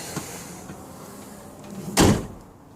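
An old Ford F-350 tow truck door swings shut with a single solid thud after a short stretch of quiet, heard close up in a garage.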